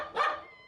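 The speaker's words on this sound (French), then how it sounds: "Moi, Martine, et mon petit chien, Patapouf." A single short, sharp bark from a small dog, close and clear, fading quickly into silence.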